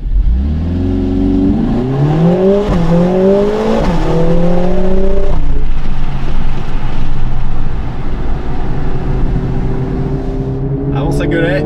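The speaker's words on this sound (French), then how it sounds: "le turbo souffle aussi très fort dans le moteur" A Mercedes A45 AMG S in its sportiest mode accelerates hard, engine note climbing through rising gears with a strong turbo whoosh, then settling into a steady loud drone from inside the car.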